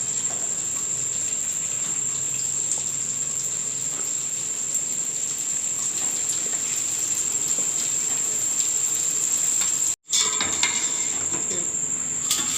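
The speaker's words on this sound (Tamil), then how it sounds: "குறைஞ்ச எண்ணெயிலே நம்ம பொரிச்சு எடுத்துடலாம்" Thaen mittai batter frying in a little oil, a steady fine sizzle and crackle running evenly throughout with a constant high whine above it and a brief dropout near the end.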